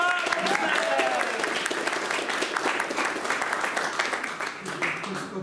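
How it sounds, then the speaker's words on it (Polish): Audience applause at a Joomla user group meeting, steady dense clapping from a small crowd lasting several seconds before tapering off. "Brawa!"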